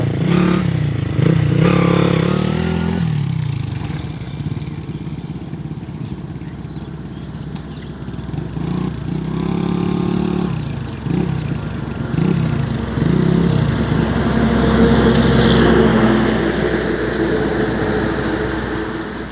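Small engine of a Honda three-wheeler with forward and reverse gears, running through a test: a near, steady putter that drops back and rises again, close and fairly loud throughout.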